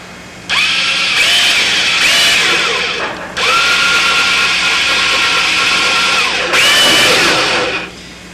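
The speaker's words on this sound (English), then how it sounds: "we got to drill a hole through the bottom here" Electric drill boring a hole through the bottom of an aircraft nose gear part, loud and close, running in three long bursts with short pauses between and the motor pitch shifting as the bit bites.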